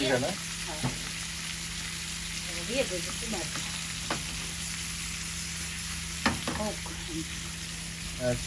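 Hilsa fish with eggplant sizzling in a hot pan, a steady frying hiss with occasional stirring clinks and scrapes, close and continuous under a constant kitchen hum.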